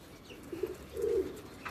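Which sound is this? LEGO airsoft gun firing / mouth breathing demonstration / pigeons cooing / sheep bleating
pigeons cooing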